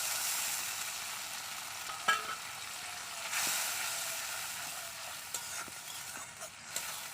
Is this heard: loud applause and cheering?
no